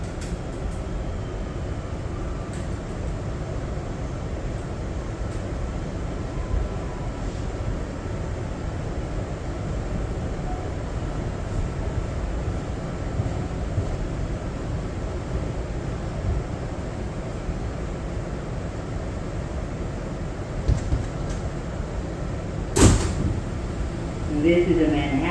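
A new R211A New York subway car on the B train runs between stations with a steady rolling rumble and rattle, then a sharp clunk near the end.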